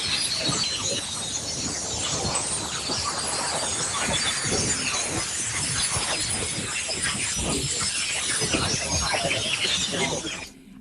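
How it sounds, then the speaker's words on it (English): Aurora radio signals picked up by very low frequency receivers and turned into sound, a dense continuous crackling and hissing static with scattered sharp pops, steady and loud for about ten seconds before cutting off. "So this is the sound of aurorae here on Earth."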